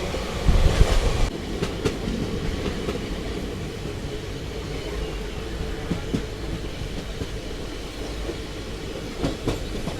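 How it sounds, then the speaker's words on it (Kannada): A passenger train from Kushtagi to Hubli, reaching Hulkoti, rolls steadily along the rails, a loud rumbling roar with faint rhythmic clacks, heavier and bumpier in the opening second before settling into a constant drone. "ಇದು ನಮ್ಮ ಟ್ರೈನ್ ಸದ್ಯಕ್ಕೆ ತಲುಪಿದೆ ಹುಲ್ಕೋಟಿ"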